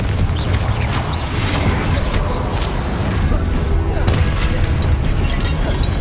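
A Confringo explosion spell cast in Hogwarts Legacy erupts in loud, dense booms and crackling bursts amid chaotic combat, with continuous heavy rumble and a brief spoken line underneath.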